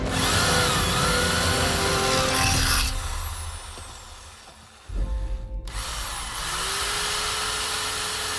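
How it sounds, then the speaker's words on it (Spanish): A 750-watt electric drill whines loudly and steadily outdoors, winds down to near silence, then starts again with a sharp burst and runs on at a high, constant pitch. "Podemos observar que este taladro de 750 vatios también funciona sin problemas."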